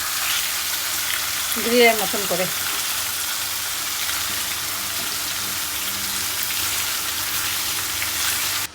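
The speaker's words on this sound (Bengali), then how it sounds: "আমি এখন হালকা একটু তেল দিয়ে এই যে কড়াইতেই ভেজে নিচ্ছি" Chicken pieces fry in a little oil in a wok with a constant close sizzle and crackle, while a voice speaks briefly near the start.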